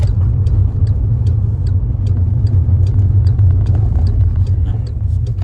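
A car with a manual clutch runs during a driving lesson, its engine giving a loud, steady low rumble with faint intermittent ticking above it.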